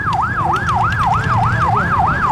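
A loud wailing police siren rising and falling in fast regular sweeps, with traffic rumbling underneath.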